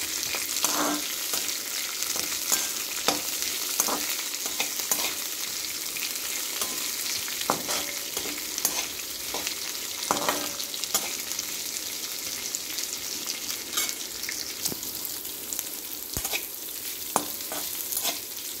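Onions sizzle steadily in hot oil in a pan for upma, with frequent scraping clicks as a spoon stirs them, continuous and close with no voices.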